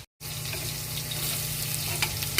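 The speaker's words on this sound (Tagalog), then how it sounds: "Let it fry." Steady loud sizzle of food frying in a pan while pansit is cooked, continuous and close after a brief silent start, with no talk.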